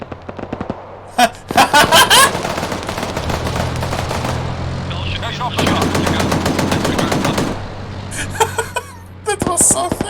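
Automatic gunfire in the military video game Arma 3, loud rapid bursts of machine gun fire in long rattling strings with short pauses, close and dominant, with faint voices underneath.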